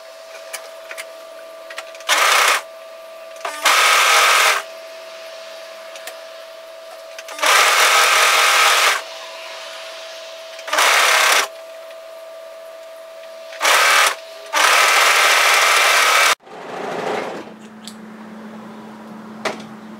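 A four-thread serger overlock machine sews a sweater seam in several loud, whirring bursts of one to two seconds with pauses between them, then a softer mechanical clunk.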